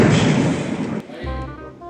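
A loud, booming blast from a firecracker cannon with a rumbling decay fills the first second, then voices speak over the fading echo.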